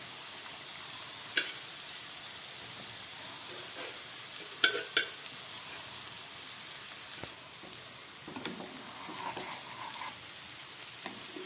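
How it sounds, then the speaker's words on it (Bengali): Cooked rice stir-fried in a hot pan for restaurant-style mixed fried rice, a steady soft sizzle with occasional scraping and tapping of a spatula, no talking. "এবার আমি দিয়ে দিচ্ছি রান্না করে রাখা ভাত।"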